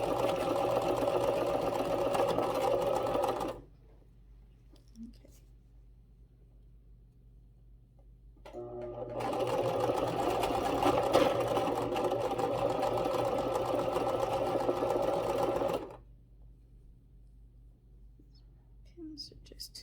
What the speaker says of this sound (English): It's just a basic sewing machine.